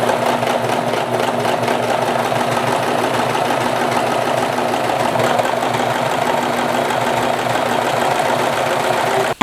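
A serger sewing machine runs at full speed stitching stretchy knit fabric, with differential feed and needle tension turned up. Its steady, loud, close mechanical whir and rapid needle clatter run nonstop with no talk and stop abruptly at the end.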